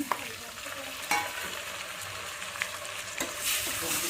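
Tomatoes going into a hot frying pan and being stirred for a rice dish with cowpeas: steady close sizzling with scraping spatula strokes and a few sharper clinks throughout.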